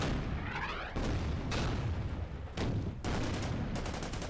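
Anti-tank guns and tanks trade fire in an Order of Battle: World War II battle at Khalkhin Gol, with loud, repeated cannon shots and booms about every half second to second.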